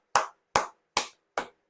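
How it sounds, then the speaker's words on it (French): Four sharp, single hand claps ring out close and evenly spaced, each short with clear silence between them. "Je vous applaudis."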